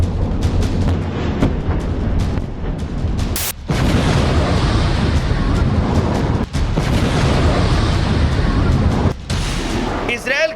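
Loud, sustained rumbling of cluster bomb explosions, around twenty bombs going off together across a wide area, with heavy booms, brief gaps and no talk.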